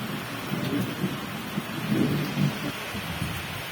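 Heavy rain hisses steadily while low rumbles of thunder roll underneath, rising briefly midway through.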